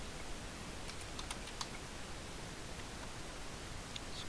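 Light computer keyboard typing with tab presses between form fields, faint scattered clicks over a steady background hiss, no talking.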